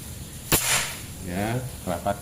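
One sharp crack from a Black AWM Mini PCP air rifle with a 30 cm barrel charged to 2700 psi, close and loud with a short decay, followed by someone speaking briefly.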